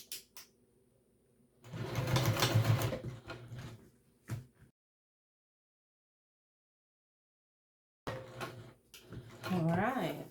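A sewing machine topstitches fabric for a pack, running in two short loud bursts separated by a long silence, with brief clicks and rustling around them.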